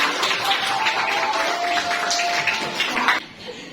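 A classroom of students clapping for themselves after a lesson game, a dense, continuous round of applause lasting about three seconds before stopping abruptly, with faint voices underneath.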